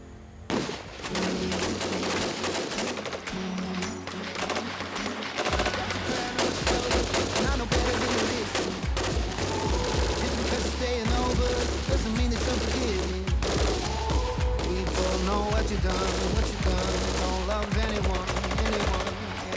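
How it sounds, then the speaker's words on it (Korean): Dense bursts of automatic and single-shot gunfire ring out during a South Korean army reconnaissance unit's night live-fire training for ambush combat, rapid volleys overlapping and echoing continuously at moderate distance. "실제 매복 작전 중 발생할 수 있는 교전 상황을 재현하고 대비하기 위한 야간 사격 훈련"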